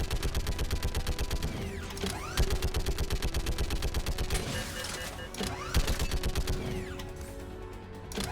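Turret gunfire in the video game Mass Effect 3 hammers out in rapid, steady bursts with brief gaps, over a metallic mechanical grinding and creaking.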